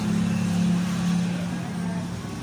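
A car passes on a quiet provincial road, its steady, fairly loud engine-and-tyre rumble swelling slightly and then fading, with no other traffic nearby.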